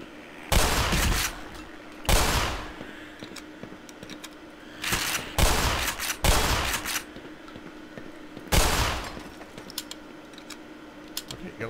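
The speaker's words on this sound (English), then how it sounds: "Let's switch to the shotgun, because I know I got lots of shotgun shells." Shotgun blasts in the video game Black Mesa: five loud, heavy shots spaced roughly one to three seconds apart, each with a short rumbling tail over faint background game ambience.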